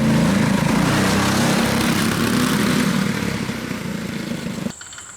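A homemade dual-engine go kart with long-travel independent suspension drones loudly nearby as it is driven, the engine note wavering and slowly fading before cutting out abruptly near the end.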